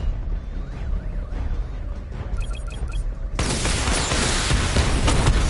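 A level 2 missile barrage launches in Batman: Arkham Knight, beginning with a quieter mechanical charge-up and beeps before a dense, loud burst of rockets firing continuously to the end.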